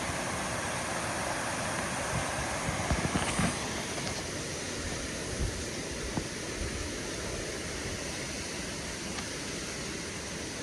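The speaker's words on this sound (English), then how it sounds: "Another waterfall." Steady, broadband rushing of the waterfall at Raven Cliff Falls on a hiking trail fills the clip continuously, loud and even with no voices.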